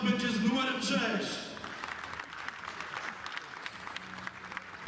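Applause for football player Jakub Habusta at a team presentation: a crowd claps loudly at first, then the clapping thins and fades while an announcer speaks over it.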